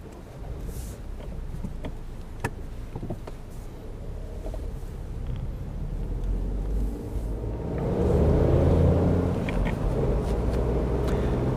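A MINI Cooper with a 3-cylinder turbocharged engine on the road. A steady low engine drone and road rumble build gradually and grow louder as it accelerates, with scattered faint interior clicks.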